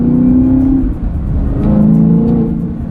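A Chevrolet Camaro ZL1 is driven through rural curves, its V8 engine droning loudly from inside the car, pitch dipping and rising as it eases off and pulls again, with no talking.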